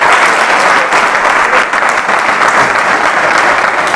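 A roomful of people bursts into loud, sustained applause, a dense wash of clapping that holds steady for several seconds at a quiz-style career academy session, with no talking over it.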